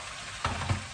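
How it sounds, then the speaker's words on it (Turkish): Pickles fry and sizzle in a pan with a steady hiss, broken by two brief louder spatters or stirs, heard close with no talking. "Turşu kızartması yapar mısın?"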